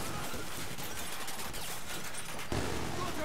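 Dense, continuous gunfire from a Battlefield 4 battle, rapid overlapping shots with a heavier burst near the end, loud and without pause.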